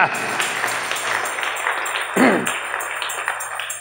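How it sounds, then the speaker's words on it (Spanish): Congregation claps together at a church service, a steady run of sharp broadband claps from a crowd with voices mixed in and a brief shout partway through. "Démosle palmas al Dios de la gloria"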